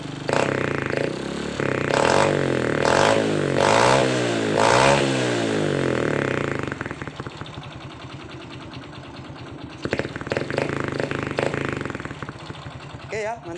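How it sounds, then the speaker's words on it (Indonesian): Honda Supra motorcycle with a modified, hollowed-out exhaust revs up in several loud rising-and-falling bursts, then settles to a rough, clattering idle before a couple of short blips. "Tapi kalau dia digas baru dia ada bunyinya ya."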